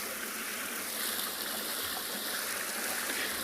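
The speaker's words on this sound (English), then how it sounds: "in case you can hear the running water, which is actually terribly relaxing" Water runs in a stream during a sunrise safari, a steady close rushing and trickling wash with no voices.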